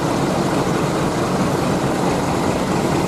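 A Volvo B11R bus engine idles at a bus terminal, giving a steady, even rumble that runs unbroken and fairly loud throughout, with no voices.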